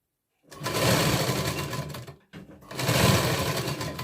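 A sewing machine stitches a katori blouse, whirring in two close, steady runs split by a short stop.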